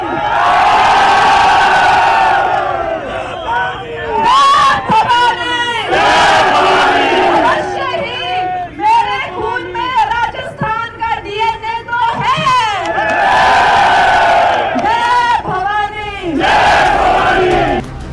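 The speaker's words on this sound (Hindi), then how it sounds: "लोगों की अपार भीड़ ने कंगना का उत्साह भी बढ़ा दिया" A large crowd at an election rally roars with rhythmic cheering and chanting shouts, loud and close, rising in repeated bursts over a public-address voice.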